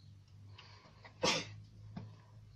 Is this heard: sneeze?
yes